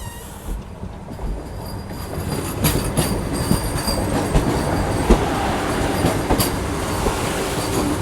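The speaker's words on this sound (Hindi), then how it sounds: "सामने से आ रही है अजनी पुणे वंदे भारत एक्सप्रेस, इंडिया की लॉन्गेस्ट रनिंग वंदे भारत।" The Ajni-Pune Vande Bharat Express passing on a crossing in India, heard as a close, continuous rumble of rail traffic with rhythmic wheel clatter and faint squeals building over several seconds.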